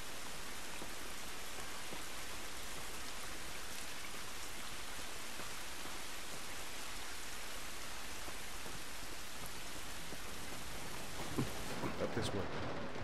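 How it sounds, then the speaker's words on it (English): Steady rain pours down in an outdoor scene of The Last of Us Remastered, a dense even hiss filling the whole stretch, with a few closer drips and faint voices near the end. "This rain ain't gonna do us any good."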